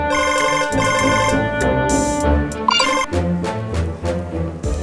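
A melodic phone ringtone plays loudly and steadily for several seconds, a bright electronic tune repeating with no voices over it.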